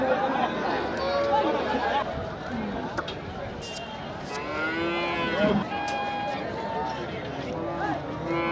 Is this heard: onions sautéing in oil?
no